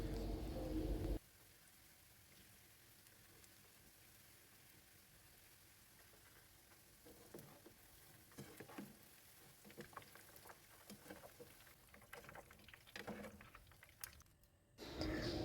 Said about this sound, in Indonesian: Kemudian tahu kita goreng. Gunakan minyak panas sampai warnanya kuning keemasan.